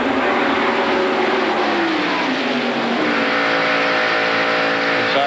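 NASCAR stock cars race at the 1992 Winston 500, their engines roaring loudly and continuously in layered, droning tones that shift in pitch as the pack passes.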